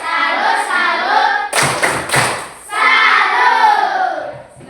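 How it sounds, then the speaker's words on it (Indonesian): A class gives a rhythmic salute clap for a student group: a short burst of sharp, close hand claps mid-clip, surrounded by children's voices chanting together. "Tepuk salut dulu untuk kelompok visual."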